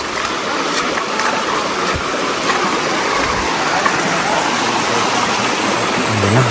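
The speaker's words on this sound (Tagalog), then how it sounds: "nabot na kami ng malakas na ulan" Heavy rain pours near a river, a dense, steady hiss of falling water that stays loud throughout with a faint low rumble underneath.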